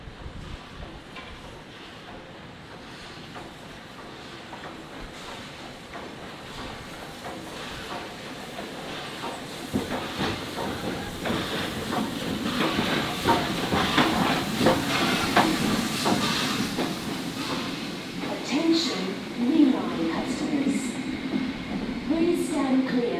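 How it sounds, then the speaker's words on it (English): Busy station ambience at Southern Cross Railway Station in Melbourne with a low rumbling V-Line train and hissing air, growing louder midway, with faint voices and announcements in the background. "right now we're at Southern Cross Railway Station in the heart of Melbourne"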